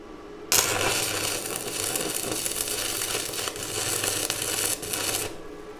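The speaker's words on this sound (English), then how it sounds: "Now I will weld the next bolt as well." A bolt being welded onto a homemade metal tool for a washing machine motor: a continuous close, loud crackling arc hiss that starts abruptly and runs for about five seconds before cutting off.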